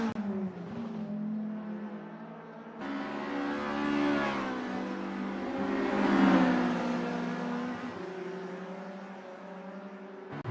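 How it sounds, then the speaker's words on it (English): A VW GTI race car in a one-make circuit racing series accelerates hard on track, its engine giving a steady, loud, droning note that swells and fades as it passes, with no voices. "They're riding the curbs and pushing the car to its limits"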